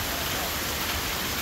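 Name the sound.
heavy rain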